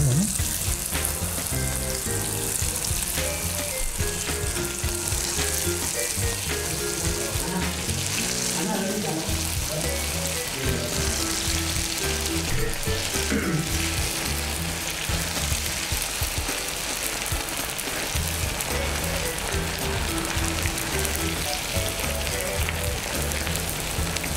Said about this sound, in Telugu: కోట్ చేసిన కూరగాయలని బ్యాటర్లో వేసి డీప్ ఫ్రై చేస్తున్నాం